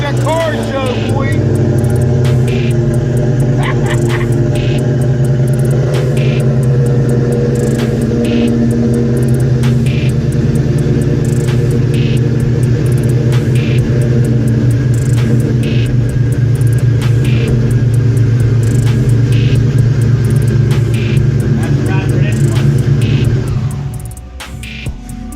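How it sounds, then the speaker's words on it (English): A car idles loudly at a car show, its exhaust giving a deep, steady rumble with a continuous low drone and a faint upper hum, close and sustained before it suddenly drops away near the end. "Gonna get y'all exhaust note."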